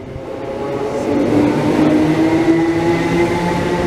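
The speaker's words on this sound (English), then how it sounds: "arriving now is a 379 bound for Bishop Stortford" A Class 379 electric multiple unit pulls into Broxbourne station, its steady rising rumble and wheel noise building with a faint tonal whine from the traction motors, loud and close, with no speech.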